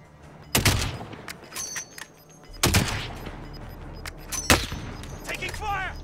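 Gunfire in the video game Warzone: three separate bursts of loud, sharp automatic fire, spaced a couple of seconds apart, with quieter game sounds between them.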